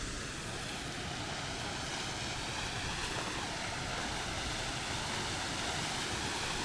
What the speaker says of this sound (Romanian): O altă cascadă.